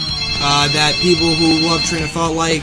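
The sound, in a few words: phone ringing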